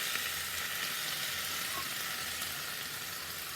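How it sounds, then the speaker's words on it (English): Eggs sizzling in a pan after water is added around the edge, a steady close hiss of frying and steaming that runs on evenly, alone, throughout. "you can hear it sizzling"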